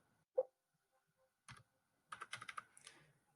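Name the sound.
typing numbers on a computer keyboard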